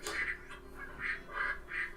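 Ducks quacking in the video game Baten Kaitos: Eternal Wings and the Lost Ocean, about five evenly spaced nasal quacks in a steady rhythm, clear and close, with no voices.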